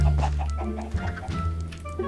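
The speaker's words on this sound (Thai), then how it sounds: "ไก่ไก่ขึ้นมาขึ้นมาขึ้นมา ขอสักสองตัวสามตัว" Chickens in Minecraft Pocket Edition 1.18 cluck in short, close, repeated bursts with no one talking over them.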